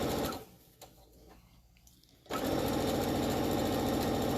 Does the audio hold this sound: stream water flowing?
no